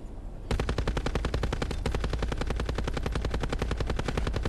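Rapid automatic gunfire in a first-person shooter game, a sustained loud stream of evenly spaced shots starting after a brief moment of quieter background and continuing without pause.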